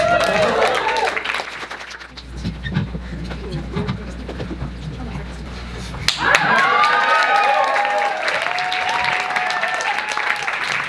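A live poetry-show audience at a New York club claps and snaps in a scattered burst, then the room settles into voices and murmur before more light applause and background chatter.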